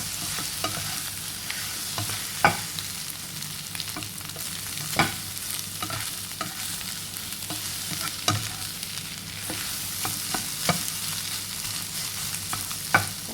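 Okra stir-fried with egg in a pan gives a continuous bright sizzle, broken by repeated scraping strokes of a spatula every second or two, close and fairly loud, with nobody speaking.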